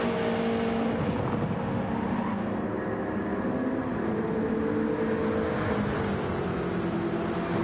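Group 2 race cars roaring past during a Le Mans race, a loud, continuous engine drone with shifting pitch as cars come and go, no voices.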